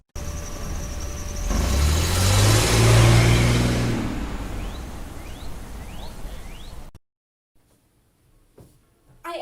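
A car engine revs loudly as the gas pedal is pressed, swelling to a roaring peak over a few seconds and then easing off before cutting out abruptly into near silence.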